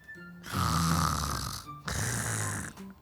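Two long, rasping snores from a sleeping character in an Indonesian children's cartoon story, each a loud drawn-out breath with a short quiet gap between them.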